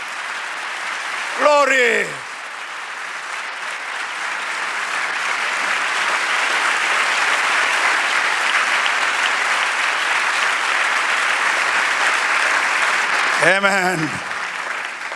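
A church congregation applauds during a sermon, with loud, sustained clapping that swells and holds for about ten seconds. A voice speaks briefly just before the applause and again as it fades.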